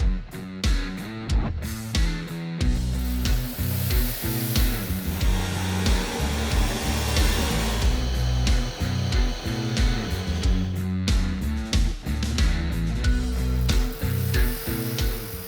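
A Philips AquaTrio Cordless 9000 wet-dry stick vacuum runs with a steady, loud whirring motor droning on continuously up close, with a few brief clicks and shifts in pitch along the way.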